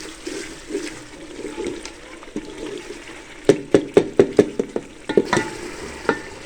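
A ladle stirs and mashes tomatoes frying in a pot for biryani, with a soft ongoing sizzle and scraping strokes, then a quick series of sharp, close knocks and scrapes against the pot near the end.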